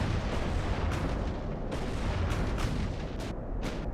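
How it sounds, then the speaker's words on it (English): Heavy, rumbling explosions from torpedo hits on a warship in the naval strategy game Ultimate Admiral: Dreadnoughts, a dense continuous roar with several sharper booms layered over it. "16 torpedoes hit him"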